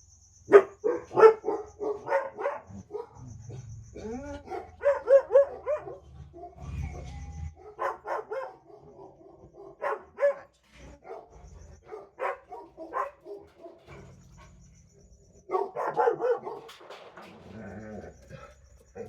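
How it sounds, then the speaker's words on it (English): Dogs bark repeatedly in irregular bursts, with some whimpering and yips between volleys, moderately close and without talk. "Sorry about the barking."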